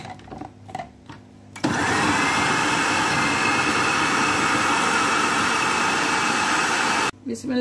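An electric chopper whirs loudly and steadily for several seconds as it chops four pieces of bread, then cuts off abruptly. Someone speaks briefly before the motor starts.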